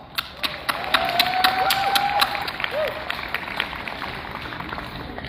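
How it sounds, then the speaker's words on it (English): An outdoor audience at a charity walk event in Calgary claps in scattered, steady applause, loudest early and tapering off, with a voice calling out briefly partway through. "Can I get a round of applause?"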